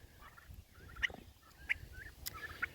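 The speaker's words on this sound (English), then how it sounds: "These turkeys are wild." Wild turkeys gobbling near a chicken coop, three or four short, distinct gobbles spaced a second or so apart over a quiet, low background, fairly faint and at middle distance.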